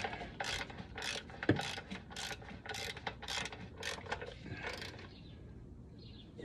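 Ratchet wrench tightening bolts during a Corvette C4 transmission install in a garage: quick repeated clicking strokes in steady bursts, close and clear with no talk.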